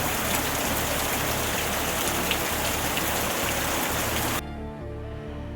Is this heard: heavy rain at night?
yes